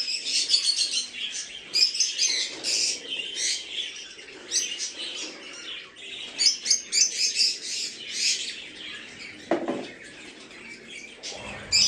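Dense, continuous chirping and tweeting of many young Hagurumo birds in a breeder's nursery and flight cage aviary, overlapping calls close by with occasional squawks, no talk.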